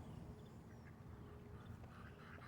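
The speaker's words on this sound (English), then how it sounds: "Very friendly ducks, very nice ducks." Friendly ducks being fed outdoors in Aiken, South Carolina, giving quacks that come through faintly under steady background noise, without clear separate calls.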